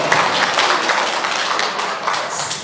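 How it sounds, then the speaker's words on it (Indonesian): An audience claps for Ibu Linda at an Adiyuswa elderly group's BKSN gathering, a steady, dense burst of applause with no pauses for a few seconds. "Tepuk tangannya dong untuk Ibu Linda"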